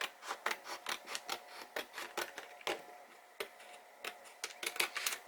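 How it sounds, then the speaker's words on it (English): Scissors cutting paper along a score line for a steampunk album, a faint series of quick snipping and crinkling clicks in an uneven rhythm, close and quiet with no talk. "cut along that 5/8 of an inch score line"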